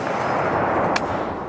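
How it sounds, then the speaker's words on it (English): An M1 Garand rifle firing .30-06 rounds at a steel target outdoors, heard as a dense, sustained roar of rumbling blast energy with one sharp, brief crack rising near the end. "Man, this 30-06 hits really hard."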